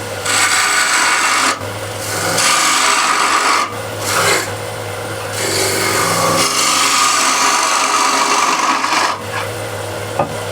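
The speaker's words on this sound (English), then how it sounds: "I'll actually grab bigger ball gouge and I'll use the right wing as a scraper" A bowl gouge's right wing, dragged as a scraper across a spinning wooden bowl near the rim, gives a loud, steady rasping hiss in long strokes with a few brief pauses between passes.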